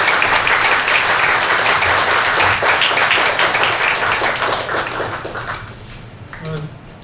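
Loud, dense applause from a church congregation that fills the hall, then thins and fades toward the end as a few voices emerge.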